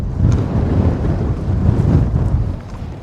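Strong, gusting wind buffets the microphone on coastal cliffs by a harbour on the Scottish Border, a loud continuous low roar that swells and eases steadily throughout with no voices.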